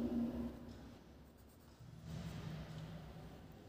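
Pen writing an answer for a class 2 environmental studies lesson, soft faint scratching and scraping strokes on paper, close and quiet with low room noise.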